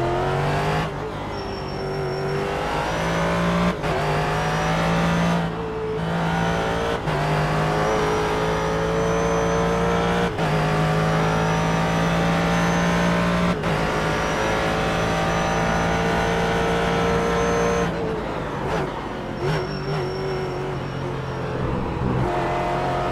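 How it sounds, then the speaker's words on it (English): A Ford GT race car in the iRacing video game drones and revs loudly and continuously, its V8 engine prominent, with high-pitched squeals from cold brakes rising over the motor several times at Interlagos. "So as you can hear, the squealing brakes, nice touch"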